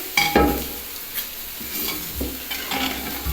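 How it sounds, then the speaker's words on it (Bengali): Lightly boiled whole chana dal is mashed with spiced potatoes in an oily pan, giving close, soft scraping and pressing thuds over a gentle sizzle. "একটুখানি গোটা ছোলার ডালের সঙ্গে একটু ম্যাশ করে নিচ্ছি"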